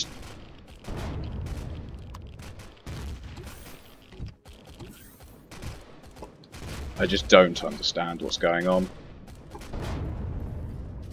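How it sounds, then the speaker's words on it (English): Gunfire and explosions in the sci-fi survival game Empyrion: Galactic Survival, scattered sharp bangs and a louder burst of crackling fire mid-clip, heard under a player speaking and muttering. "There's explosions and gunshots."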